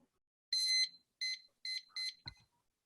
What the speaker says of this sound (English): So set my obnoxious timer again